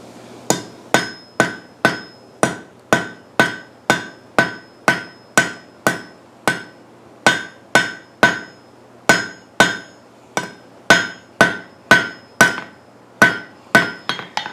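Steady, loud hammer blows ring out on metal as a trivet is forged, about thirty sharp metallic strikes in an even rhythm with brief pauses, each with a bright ringing tone, close up and with no talking.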